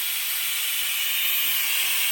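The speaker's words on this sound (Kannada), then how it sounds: "ಕುಕ್ಕರ್" A pressure cooker lets off a continuous, loud hiss of steam, steady throughout and ending with a brief sharp burst.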